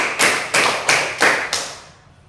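A live audience claps in unison in a rhythmic pattern, five sharp group claps evenly spaced about a third of a second apart, loud and close, with the last ringing out into the room.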